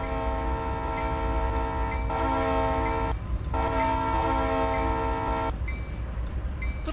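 A locomotive horn in the Train Sim 2015 simulator, run at night, sounds as two long sustained chord blasts with a short gap between them over a steady low rumble of the train's running noise.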